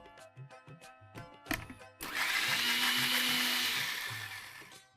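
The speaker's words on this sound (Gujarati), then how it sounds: "આ બધી જ વસ્તુને થોડુંક પાણી નાખીને ક્રશ કરી લઈશું." A kitchen blender crushes black pepper, cumin and black salt with a little water, starting with a few clicks before a loud, steady whirring grind of about three seconds that tapers off.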